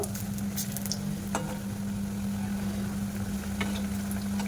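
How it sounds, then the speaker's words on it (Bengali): Soft semolina pithas fry in oil a few at a time, a steady close sizzle with light bubbling and a few brief clicks over a low background hum. "আর অল্প অল্প করে দিয়ে পিঠাগুলো ভাজা করে নেব, তা নাহলে পিঠাগুলো ভেঙে যেতে পারে।"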